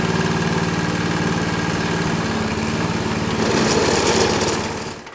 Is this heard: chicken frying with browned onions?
no